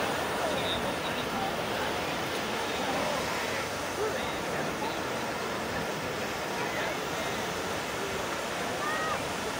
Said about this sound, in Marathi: मग अशा प्रकारे लाटा येतात त्या.